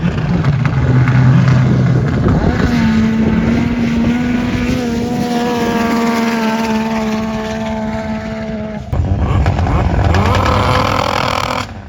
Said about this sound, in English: That car is loud.